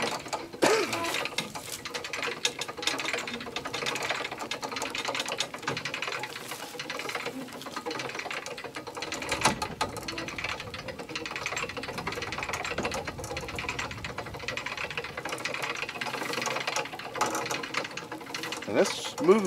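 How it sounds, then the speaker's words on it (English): A trailer crane winch hauls its cable to pull a mule held back by its emergency brake, giving a steady mechanical ratcheting, geared whir through most of the stretch with a few sharper clanks, while voices speak intermittently. "We winched it pretty easy."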